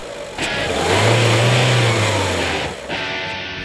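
A Renault Duster SUV with a 1.6 litre engine accelerates hard through the low gears, its mid-pitched engine note rising and swelling for about two seconds before easing as the next gear engages, steady and close with no talk.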